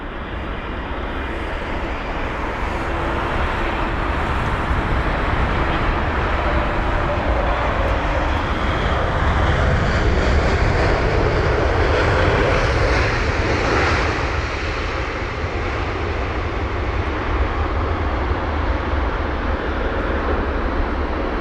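A Royal Jordanian airliner, about nine years old, landing at London Heathrow: a steady, loud jet engine roar that swells slightly mid-way and holds throughout with no voices.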